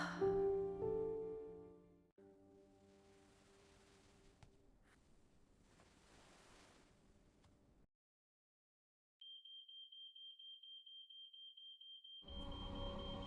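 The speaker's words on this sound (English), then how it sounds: "The smoke alarm?" A household smoke alarm beeping in a steady rapid string of shrill electronic chirps lasting a few seconds after a quiet pause, followed by other noise; earlier, music and scene sounds play without speech.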